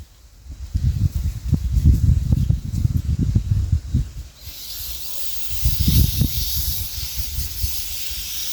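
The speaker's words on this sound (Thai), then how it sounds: "ฉีดสเปรย์เลย" Insecticide spray hissing in bursts at a wasp nest outdoors, first broken by low rustling and handling noise, then one steadier continuous hiss near the microphone.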